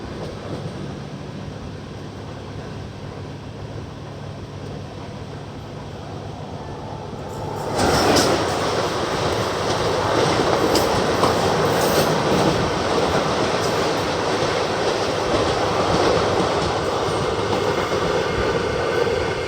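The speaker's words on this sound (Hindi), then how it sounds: "हमारी ट्रेन की क्रॉसिंग होने वाली है प्रयागराज संगम सहारनपुर जंक्शन नौचंडी एक्सप्रेस के साथ" Kashi Vishwanath Express crossing the Nauchandi Express, an even rumble of the moving train that swells abruptly into a louder, denser rush and clatter as the other train passes close alongside.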